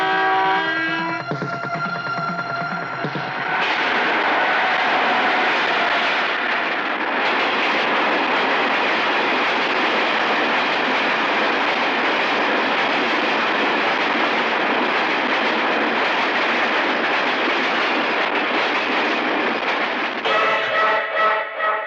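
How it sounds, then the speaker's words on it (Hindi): A train approaching, a loud sustained rumbling roar that builds and holds for about twenty seconds, with ringing bell-like tones at the start and end. "ट्रेन आ रही है।"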